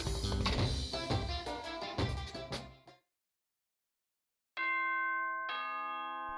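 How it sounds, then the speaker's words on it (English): Two generic bell chimes ring out cleanly in the video game Danganronpa 2. They follow a burst of louder music that fades into silence, and each chime sustains a bright ringing tone. "Generic bell sound."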